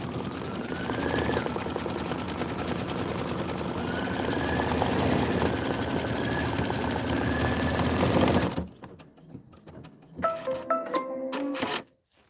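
An embroidery machine stitches a stippling quilting pattern in the hoop, a steady rapid mechanical whir running loud and continuous, then stopping abruptly and giving way to quieter clicks and short bursts of movement.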